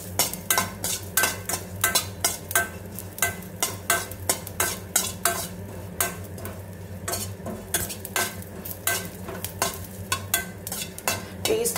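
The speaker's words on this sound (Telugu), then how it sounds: "ఇలా పచ్చిమిర్చి ఫ్రై చేసుకునేటప్పుడే మనం యాడ్ చేసుకున్నాం, జీలకర్ర యాడ్ చేసుకున్నాం." Green chillies and cumin seeds fry in a pan for coriander-stem chutney, a steady sizzle under repeated rhythmic scraping and stirring of a utensil against the pan, close and fairly loud with no talking.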